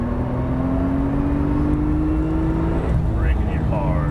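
A Porsche 911 Turbo engine accelerates on a race track with a rising, steady tone and a gear change near the end, heard close from inside the car under a driver's voice.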